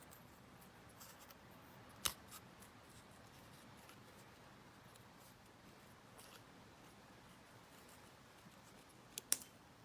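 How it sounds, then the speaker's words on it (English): Scissors cut through paper as the paper is fed steadily between the blades, producing very faint soft snips with two sharper clicks against a quiet indoor background. "I'm moving the paper more than anything. Sort of driving the paper through the scissors."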